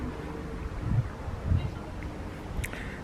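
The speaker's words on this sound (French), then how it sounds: "Il y a toujours le petit vent." Light wind blows outdoors under a hot sun, a steady low rush buffeting the microphone with two slightly stronger gusts.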